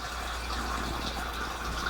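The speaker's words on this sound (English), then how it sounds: "I'll just pee on the side so it sounds quieter." A steady trickle of urine splashing into toilet water, continuous and close, with no voices over it.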